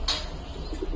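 A kali maina pigeon coos softly nearby, a low murmuring call over a steady background hiss, with a brief sharp chirp near the start.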